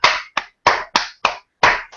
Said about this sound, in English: Let's just give a clap.